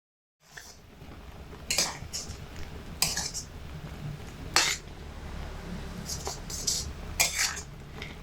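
Grated coconut is stirred in melted sugar syrup in a pan over medium heat: scattered metallic scrapes and clinks of a spoon against the pan, some sharper than others, close and moderately loud with no talking.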